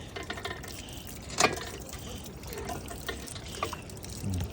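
Water trickles and splashes from a hand pump in a park, a soft continuous flow with one brief louder gush and some background noise, no talk heard.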